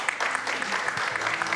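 A crowd claps together at a Dark Souls II speedrun marathon event, a short, steady patter of applause at moderate volume with some talk mixed in.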